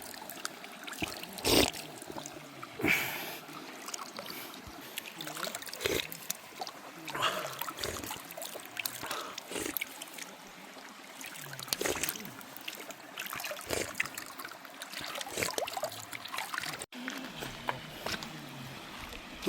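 Cold, clear stream water flowing through dense forest in the Dudhatoli hills, a steady close rushing and gurgling that runs unbroken throughout.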